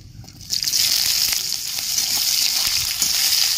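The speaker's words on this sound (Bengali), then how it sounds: "পেঁয়াজটা লাল করে ভাজা হয়ে গেছে" Chopped onions frying in hot oil in a wok seasoned with nigella seeds and dried red chilli, a loud continuous close sizzle with faint clicks of stirring.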